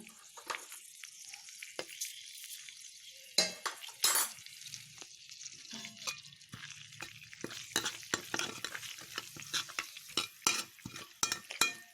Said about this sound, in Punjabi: ਘਿਓ ਦੇਸੀ ਤੇ ਇਹ 'ਚ ਆਪਾਂ ਹੁਣ ਪਾਵਾਂਗੇ ਜੀਰਾ